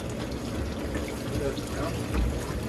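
A Philco solid tub washer fills with water during a regular wash cycle, giving a steady pouring rush that stays even throughout, with people talking nearby.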